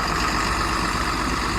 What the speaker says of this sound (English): Just had to get tractor to pull this wagon out